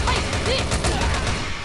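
Dense burst of gunfire from the mobile shooter Frontline Commando: Rivals, a continuous loud rattle of shots filling the whole moment with no clear gaps between rounds.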